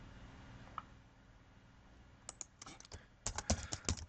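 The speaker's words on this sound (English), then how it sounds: "So type that into your spreadsheet." Rapid keystrokes tap on a computer keyboard while data is entered into a spreadsheet: faint room tone at first, then a quick burst of crisp, close clicks at the end.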